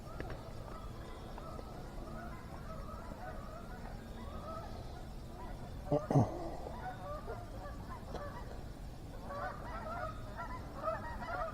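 Goose honks drift in from a distance over steady outdoor background noise, with a louder burst of calls standing out briefly midway.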